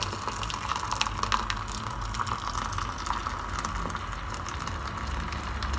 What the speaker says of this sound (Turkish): Bunu şimdi ben şu yine ölçü kabıma süzeceğim.